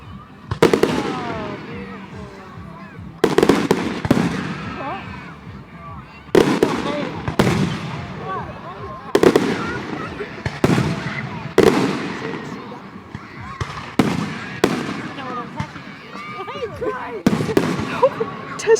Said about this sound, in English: These are the best fireworks I've ever seen.